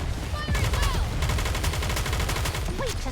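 Rapid, loud video game gunfire rattles in a dense burst of repeated shots lasting nearly the whole stretch, with brief game voice and sound effects mixed in.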